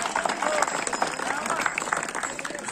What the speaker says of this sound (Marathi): जरा सर्वांनी टाळ्या वाजवून जरा कौतुक करा की।